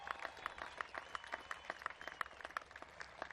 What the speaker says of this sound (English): Another round of applause for the amazing display we saw from the Golden Knights.